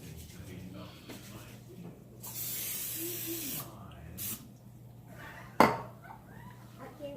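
Cooking spray hisses onto the bottom of a meatloaf pan in a soft burst of a second or so, followed by a faint clatter and a sharp knock, with murmured talk in the background.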